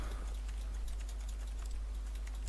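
Rapid computer clicking from the video game The Stanley Parable: a brisk, even run of light keyboard-like clicks over a constant low hum, close and moderately loud, with no voices.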